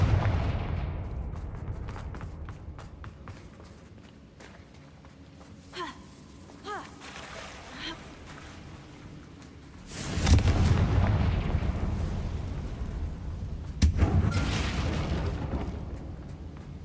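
Confringo blasting spell going off in Hogwarts Legacy, with a short spoken line before a heavy booming explosion that rumbles on, then a second sharp blast a few seconds later.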